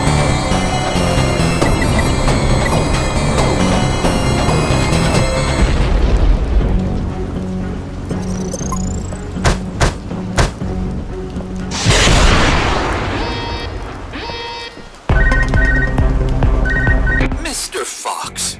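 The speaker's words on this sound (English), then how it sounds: "The platform collapsed after the ballistic abuse from all the missiles." Heavy rumbling collapse of a platform after missile explosions in the video game UnMetal, with booming crashes and a sustained roar of debris over game music, loud and near, ending in a sharp drop then a final burst.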